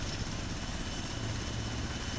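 A helicopter in a video game drones steadily throughout, a dense low rotor-and-engine hum at constant volume with no speech over it.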